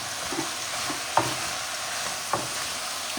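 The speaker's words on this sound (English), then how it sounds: "I'm just going to stir that until it's really well mixed." Diced, fully cooked potatoes stirred in a frying pan for a vegan breakfast, giving a soft steady sizzle with a few sharp utensil scrapes and clacks against the pan, close and alone.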